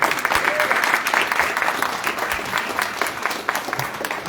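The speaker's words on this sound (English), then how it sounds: "Give them a big round of applause." A crowd at a LULAC town hall applauds a JROTC color guard from Raul Izaguirre School with steady, full clapping that tapers off slightly toward the end.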